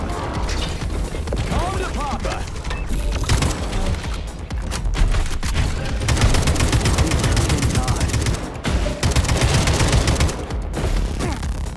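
Loud, rapid bursts of gunfire rattle almost nonstop through the MA-9 Belyash boss fight in the video game Atomic Heart. They come with mechanical clanks and brief pauses, and a voice talks over them.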